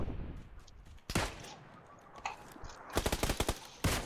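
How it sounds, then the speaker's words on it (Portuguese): Gunfire in the video game PUBG Lite: a single shot, a few scattered shots, then a rapid automatic burst and a final loud shot, crisp and close, with little talk. "Tô atirando pra ver se ele vai dar a cara"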